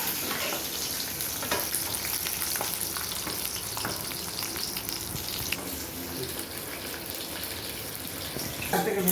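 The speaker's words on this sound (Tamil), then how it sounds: "காஞ்ச மிளகா, வெள்ளைப்பூடு, இது எல்லாத்தையுமே அப்படியே லைட்டாக வதக்கி எடுத்துக்கிடுவோம்." Dried chillies and garlic sauté in a pan for an onion chutney, giving a continuous close sizzle with occasional stirring scrapes.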